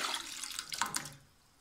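Soaking water from sago pearls poured into a pan, a brief close splashing pour that trails off into quiet.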